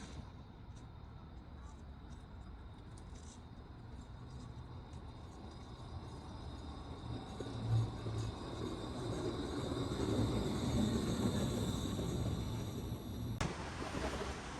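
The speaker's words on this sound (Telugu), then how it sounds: "ఇగో మనం ఎక్కబోయే మెట్రో వచ్చింది." A metro train pulls into a station in Canada in -20°C cold, a faint low rumble building gradually to a louder swell, with a sharp hiss at the end.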